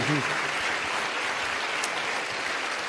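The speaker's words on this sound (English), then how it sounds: "Give a round of applause to your team." An audience at a Sadhguru event in Azerbaijan gives the event team a round of applause, a dense, loud wash of clapping with a voice briefly heard at the start.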